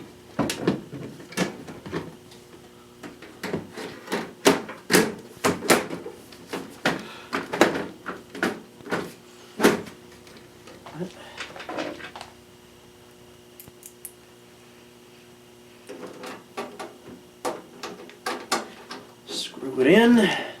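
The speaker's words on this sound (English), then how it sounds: "So we'll go ahead and put the panel back on." A computer case side panel is fitted back on during a Voodoo 3 graphics card install, giving a string of sharp clacks and scrapes of sheet metal, with a quieter pause and more knocks near the end, close and fairly loud.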